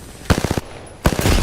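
Two short bursts of automatic rifle fire while strafing in the battle-royale shooter Apex Legends, each a quick, loud rattle of several rapid shots separated by a short pause.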